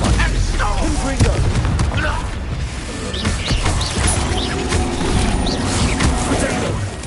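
Fiery Confringo and explosive Bombarda spell blasts in Hogwarts Legacy, a stream of crashing bursts and booms with clattering impacts, loud and continuous.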